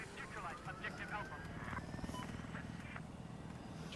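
Helicopter flying in Battlefield 4, a rhythmic low rotor chop under a busy game mix with bursts of other effects and nearby talk.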